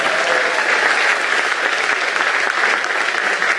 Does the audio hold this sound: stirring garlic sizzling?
no